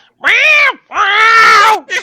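A human voice imitates a cat meowing, giving two drawn-out, loud meows and a short third one, close and clear, with silence between them.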